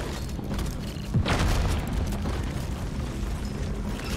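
A detonated charge exploding in a video game, a loud low boom followed by a sustained rumbling blast that stays dense and heavy throughout.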